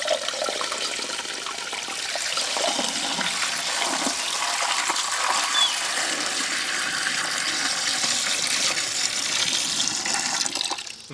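Water poured from a watering can into a blocked drain, a steady, loud rushing splash that runs continuously for about eleven seconds, close and alone.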